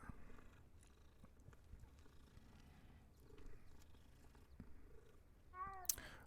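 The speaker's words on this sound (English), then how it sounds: "That's a nice looking little cat." A small cat purrs softly in Hogwarts Legacy: a faint, steady, low rumbling purr under quiet game ambience, with a short bright chime near the end.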